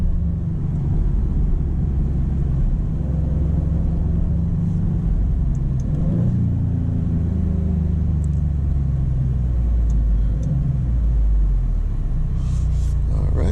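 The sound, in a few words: 2025 Maserati GranCabrio Trofeo accelerating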